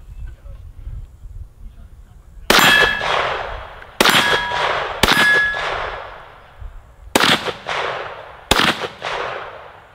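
Shots from a Kel-Tec CMR-30 ring on a steel target outdoors: five sharp cracks, each followed by a bright metallic clang that fades, irregularly spaced over several seconds.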